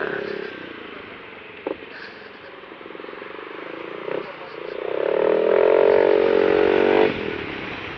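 A motorcycle engine hums steadily while riding, then swells to a louder rumble in the middle before easing off again, with wind noise throughout.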